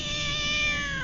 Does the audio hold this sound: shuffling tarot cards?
no